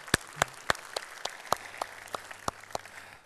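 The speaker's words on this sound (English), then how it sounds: "So please give him an extra applause." Sparse, spaced-out hand claps from a small part of a keynote audience at NAV TechDays 2012, fairly faint, with roughly a dozen distinct claps over a few seconds.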